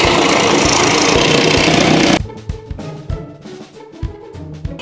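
A saw cuts through a wooden board being made into a pet snake enclosure, giving a loud, continuous rasping for about two seconds, followed by scattered knocks and handling of the wood nearby.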